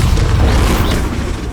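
A Bombarda spell detonates in a Hogwarts Legacy fight, a loud, dense boom that fills the short moment with heavy rumble.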